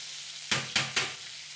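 Spanish meatballs being turned in a frying pan, three sharp spatula scrapes over a steady background sizzle, close and alone.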